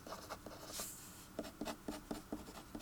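Symbols are written by hand during a lecture, with a smooth drawn stroke followed by a series of short, quick marking taps in a steady rhythm, close and quiet with no talking.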